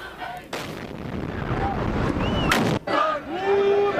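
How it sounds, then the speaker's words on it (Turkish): A sudden loud bomb blast bursts over a crowd dancing the halay at a peace rally in Ankara, followed by a rumbling roar and then screams and shouting voices. "Halaylar çekilirken arkada bir patlama görüyoruz."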